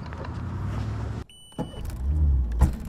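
A Mercury outboard boat motor runs out on the water, a steady low drone that cuts out briefly, then returns with a louder, rougher rumble and a sharp burst near the end.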